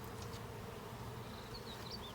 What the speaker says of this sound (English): So these bees will go back home.